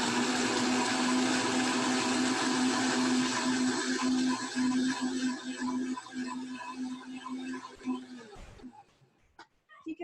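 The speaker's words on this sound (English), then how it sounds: "we're just gonna sort of whiz this up again in the blender" A kitchen blender whirs steadily while breaking up dates and other drink ingredients, a loud continuous motor hum that cuts off near the end, followed by brief clatter.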